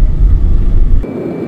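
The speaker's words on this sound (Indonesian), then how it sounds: "suara kaki-kaki yang dihasilkan dari perputaran roda itu masuk ke dalam" Deep, steady road and tyre rumble heard inside the cabin of a Daihatsu Sigra cruising around 120 km/h, loud and low, with the tone shifting abruptly near the end.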